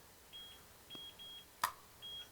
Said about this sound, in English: We got some beeping going on.